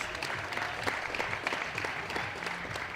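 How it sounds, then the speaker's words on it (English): Quiet applause from a small audience at a DreamHack Winter 2012 esports tournament, a patter of scattered claps that sounds fairly distant. "let's give him a round of applause and congratulations"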